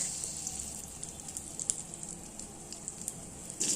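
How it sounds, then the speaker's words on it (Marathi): Garlic and green chilies frying in oil in a pan for a spicy traditional curry, a steady close sizzle with small popping crackles and no talking. "लसूण थोडासा लालसर होईपर्यंत परतवायचा आहे तोपर्यंत मिरची ही तळून निघते"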